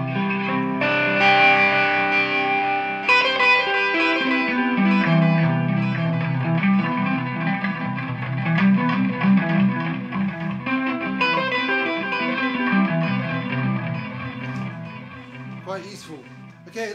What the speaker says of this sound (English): I've also got a little bit of a delay.